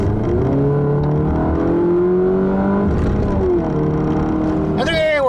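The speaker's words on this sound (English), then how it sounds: "the sound that this 4-cylinder makes. It's a very unrefined, rather thrashy noise" A Chrysler 200 with a 2.4-liter 4-cylinder engine revving hard, a loud, coarse and thrashy drone whose pitch climbs, dips briefly and climbs again, heard close and alone for about five seconds.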